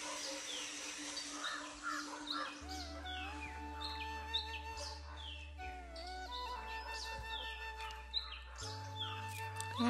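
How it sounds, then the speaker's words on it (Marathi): Small birds, sparrows among them, chirp and tweet steadily around a Shiv temple in rural Maval near Pune, bright overlapping calls close by over a low droning hum throughout. "चिमण्यांचा चहचहाट"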